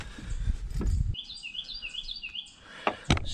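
A small bird chirps in a rapid series of high, thin tweets near a wooden gaff cutter, preceded and followed by clunks and knocks of work on the boat.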